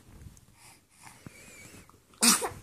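A baby lying on its tummy gives one sharp, sudden sneeze near the end, after soft snuffly breathing and quiet background noise.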